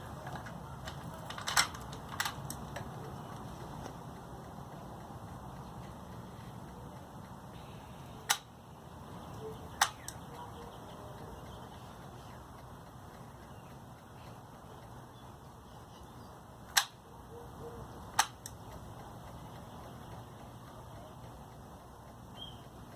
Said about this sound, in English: The fuel pump down in this area is going to click a couple of times